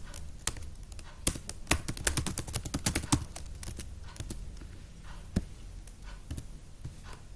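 Rapid typing on a computer keyboard while entering a name and email address, with quick irregular key clicks in bursts, close and fairly quiet, no talking.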